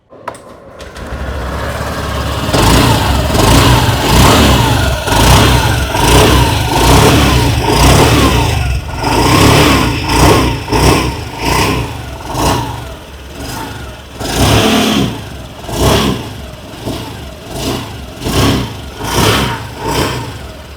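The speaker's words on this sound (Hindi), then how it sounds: "आइए अभी सुन लेते हैं इस स्कूटर की एग्जॉस्ट नोट।" A 2025 Honda Activa 6G 110 cc standard scooter starts up, then idles and is revved repeatedly, its small single-cylinder engine rising and falling in close, loud bursts with no talk over it.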